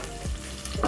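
Onions stirred as they fry in cooking oil for pork wet fry, a short close burst of soft sizzling with a couple of scraping strokes, no voices.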